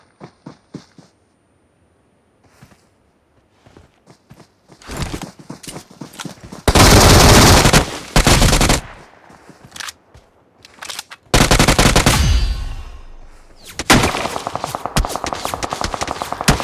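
Heavy bursts of automatic gunfire from the BGMI mobile battle royale game ring out loud and close, starting with sparse single shots and then building into long, dense volleys with brief pauses between them.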